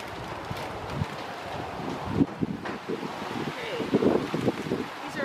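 Gusty wind blows outdoors in a home garden during planting, rumbling across the microphone with rustling bursts. It is loud and close and does not let up.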